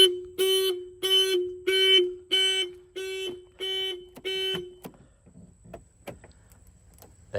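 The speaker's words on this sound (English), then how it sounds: "So the alarm system still works with a car that's 39 years old." A 39-year-old Mercedes W126 alarm blares in a run of about eight regular electronic honk-like pulses, loud and close, then cuts off, leaving a few clicks and faint handling noises.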